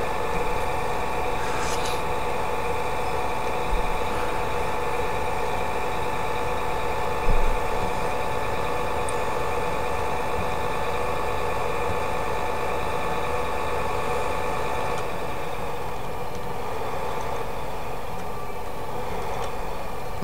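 A steady tractor engine idles in Farming Simulator, a continuous low mechanical drone with a faint hum, holding at an even level with a brief bump partway through.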